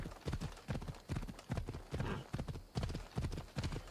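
Horse hooves clip-clop in a steady trotting rhythm in Assassin's Creed Odyssey, with regular paired beats, fairly close and moderately quiet, with no talk over them.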